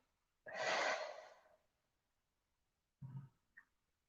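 Slow meditative breaths: one long, soft exhale through the mouth, then after a pause a shorter breath and a faint puff, close and quiet with no talk.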